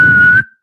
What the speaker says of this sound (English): he's gonna whistle from the dugout